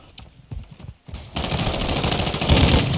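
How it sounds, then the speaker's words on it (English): Rapid automatic gunfire from a shooting video game bursts out loud and sustained after a second of scattered quieter shots and thumps. "You guys are shooting each other."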